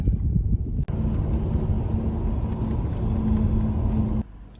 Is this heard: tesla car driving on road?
yes